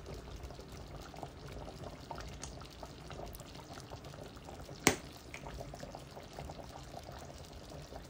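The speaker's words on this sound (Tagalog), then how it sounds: "lutuin lang natin, halu-haluin natin para yung cubes ay matunaw at nang hindi dumikit din sa ilalim" Japanese chicken curry with melting roux cubes simmers quietly in a pot, a soft continuous bubbling with faint liquid movement and one sharp clink of a utensil midway.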